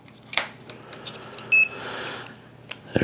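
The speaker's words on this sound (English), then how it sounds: "There's the beep saying we are live and ready to go testing." A Tesmen digital multimeter gives a single short startup beep, clear and surrounded by faint handling clicks and taps.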